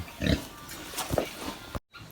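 Hybrid piglets on a Philippine pig farm grunt in a few short, low bursts close by, with scattered snorts and shuffling between them and no talk.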